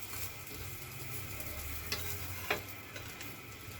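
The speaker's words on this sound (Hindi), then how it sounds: "अंडा मैंने तवे पे डाल के ऐसे इसको फोल्ड करना है।" Egg sizzles as it fries on a tava griddle, a soft, steady crackle punctuated by a couple of faint clicks of a utensil turning and folding it.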